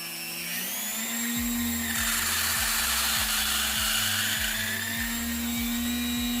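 An electric nail drill from a new pro nail tool kit spins up to a steady high whine and then bites in, a harsher grinding layer rising and falling as it cuts, with a regular low ticking pulse throughout.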